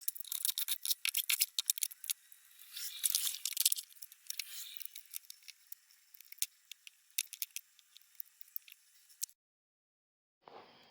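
Phillips screws backed out of the front cover of a Minn Kota Riptide trolling motor: close, dry clicking, scraping and rattling for several seconds, then a brief silence before a final short burst of handling noise.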